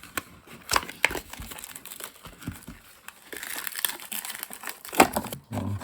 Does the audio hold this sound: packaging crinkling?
yes